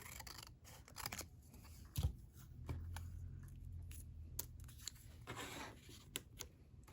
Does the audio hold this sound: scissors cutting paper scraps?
yes